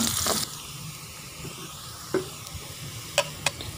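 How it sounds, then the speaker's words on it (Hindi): Onions frying in hot ghee in a wok give a steady close sizzle and hiss, with a louder burst at the start and a few sharp clinks of a utensil against the pan. "कढ़ाई में घी डालेंगे और घी के अंदर प्याज डाल देंगे। पहले प्याज को थोड़ा फ्राई करेंगे"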